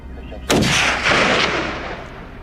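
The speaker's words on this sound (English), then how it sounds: "The gunshot echoed through the mountains." A long-range rifle shot fired at a wild boar on farmland rings out as one loud, sharp crack, followed by a long rolling echo that fades slowly through the surrounding mountains.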